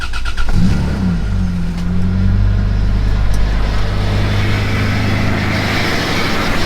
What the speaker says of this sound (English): I'll just like kind of show you guys how it sounds with this exhaust.